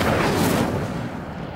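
Incendio fire spell cast in Hogwarts Legacy, a loud, dense burst of roaring flame with a whooshing blast that peaks early and then tails off into a steady crackle.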